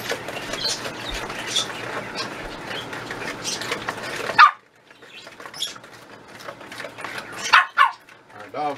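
A dog gives several sharp barks in a home kitchen, close and fairly loud, over a background of talk and mixing noises.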